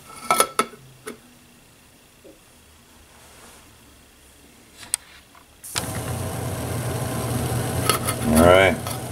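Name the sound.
backpack stove heating a lidded pot of water to boil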